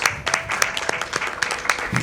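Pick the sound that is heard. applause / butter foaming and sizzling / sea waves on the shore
applause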